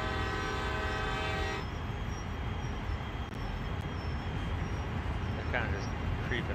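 CSX heavy haul freight train in the Train Sim World game, a steady loud rumble of the train rolling along with a sustained horn tone early on, continuous throughout.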